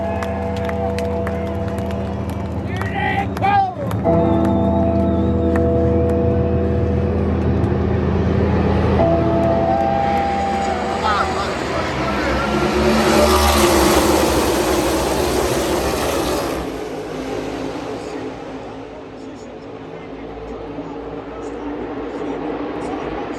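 NASCAR stock cars run at full speed at Charlotte Motor Speedway, a massed engine roar of droning tones that swells to a loud pass-by peak and then fades into a rumble.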